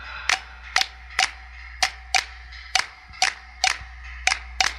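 A church congregation at a Sunday worship service claps along to a clave rhythm: sharp, loud, unison claps in a regular pattern, about ten hits spread evenly, with near silence between them.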